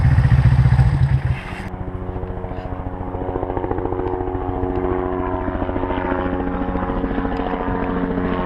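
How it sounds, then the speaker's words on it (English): A steady rotor-and-engine drone of a helicopter passing nearby, continuous and fairly loud after a brief louder rumble at the start. "I had to get a shot of that helicopter"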